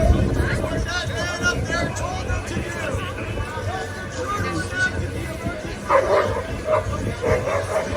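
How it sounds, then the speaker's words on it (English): Dogs bark and yip repeatedly amid a noisy crowd at an outdoor street protest, with voices and babble continuous throughout and a few sharper bursts of barking near the end. "Oh, I hear dogs."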